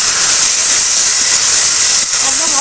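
Steady loud hiss of water hitting a hot pan of cooking ridge gourd and mung dal, a continuous sizzle with no speech over it.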